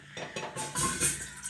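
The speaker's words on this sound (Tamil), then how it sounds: "நம்ம அடுப்பில் இதை மட்டும் வச்சு இதில் நம்ம ஒரு அரை டம்ளர் போல் தண்ணி ஆட் பண்ணிக்கலாம்" Short clatter of a metal pot set down on a kitchen stove, followed by light clinks and splashes as a small amount of water is poured in, close and fairly quiet with no talking.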